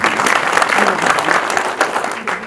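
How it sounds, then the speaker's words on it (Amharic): A live audience applauds an Ethiopian speaker's guest, a dense, steady clapping that holds at full strength for about two and a half seconds. "አጨብጭቡላት በቃ።"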